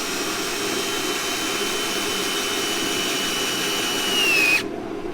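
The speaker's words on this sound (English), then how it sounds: "And then once we move the clamp, we'll drill another one back in there." A power drill bores holes through a snowmobile sled ski, a steady loud whine held close for several seconds, rising slightly in pitch before cutting off abruptly near the end.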